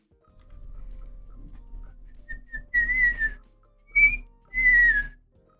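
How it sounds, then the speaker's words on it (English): A person whistles a few short, wavering notes in separate bursts, close and clear against a quiet room with a faint low hum. "I can't whistle that well."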